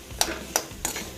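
Spicy potato vada filling is sautéed in a little oil in a pan, with three quick scraping strokes of a spoon against the pan over a soft background sizzle, close and with no talk.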